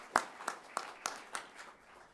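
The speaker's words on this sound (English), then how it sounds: "please join me in giving him a round of applause as well" Scattered claps for an absent award recipient at a NASA Headquarters honor awards ceremony, about five distinct hand claps in a slow, sparse rhythm, faint and somewhat distant, fading out.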